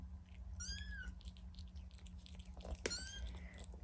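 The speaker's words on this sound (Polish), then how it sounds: "O, tu kotek jest." A house cat meows twice with rising-falling calls, close and clear over a steady low hum, with faint chewing-like sounds in between.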